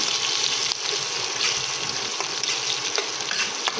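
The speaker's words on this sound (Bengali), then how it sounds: "দিয়ে পেঁয়াজটাকে একটু ভালোভাবে ভেজে নেবো" Chopped onion frying in a pan for a Bengali chana dal and soybean dish hisses with a dense, continuous sizzle, broken by light stirring taps.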